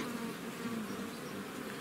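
Honey bees swarm around hives at an apiary in Moldova, a dense, continuous buzzing hum that stays close and loud throughout with no voices.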